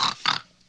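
A person imitates a pig's oink, two quick nasal grunts close to the mic in a quiet room, the second slightly longer.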